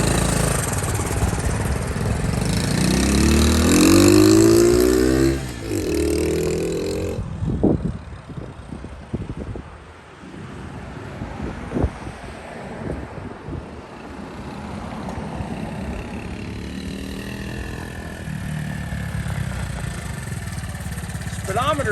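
A Honda CT70 motorcycle engine runs nearby with a loud, rising revving whine, then drops to a rougher, uneven idle with bumps and knocks over wind noise.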